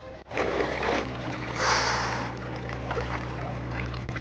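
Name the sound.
fishing boat engine starting and running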